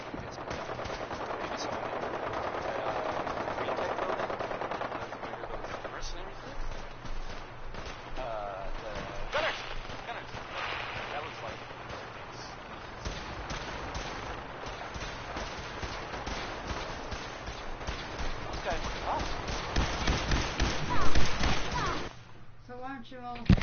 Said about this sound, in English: Who was shooting at us?